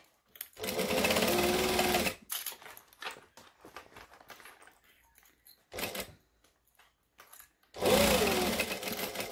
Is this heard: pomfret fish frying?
no